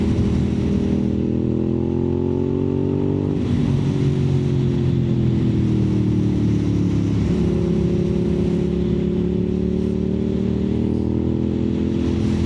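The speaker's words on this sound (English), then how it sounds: "that M4 exhaust sounds absolutely magnifico. Truly, truly great sounding bike" A 4th-generation Suzuki SV650 motorcycle with a loud M4 aftermarket exhaust revs up and down several times nearby, its deep throaty roar rising and falling without any talking.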